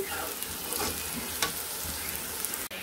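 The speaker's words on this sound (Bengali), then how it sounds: "পেঁয়াজটাকে ভালো মতো লাল লাল করে ভেজে নেবেন।" Chopped onions fry in oil in a wok, crackling and hissing steadily up close, with stirring scrapes and a small clatter near the end.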